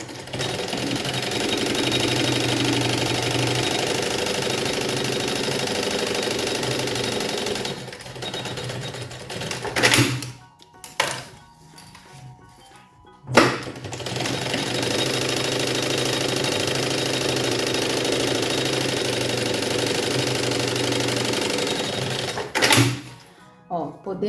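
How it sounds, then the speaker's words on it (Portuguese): A sewing machine runs a safety stitch along both sides to join fabric and lining for a children's lunch bag, a loud continuous buzzing whir in long bursts with short pauses between runs. "agora eu vou passar uma costura de segurança dos dois lados para prender o tecido com o forro."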